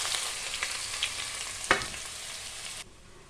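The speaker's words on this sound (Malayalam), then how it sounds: "പിന്നെ പച്ചമുളക്, ഇതെല്ലാം കൂടെ കടുക് വറുത്തിട്ട് അതിലേക്ക് ഇടുക." Ginger and green chillies frying with popping mustard seeds in a pan, a steady close sizzle with a few sharp crackles, then cutting off near the end.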